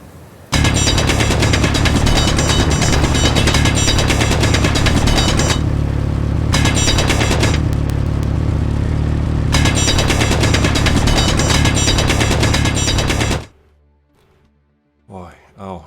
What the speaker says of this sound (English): And let's start drilling.